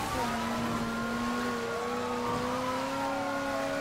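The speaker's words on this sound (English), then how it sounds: "I'm driving on the side of the road." A car engine in Mafia III drones steadily at a constant pitch, loud and close, holding a smooth sustained hum with slight rises as the vehicle cruises along the roadside.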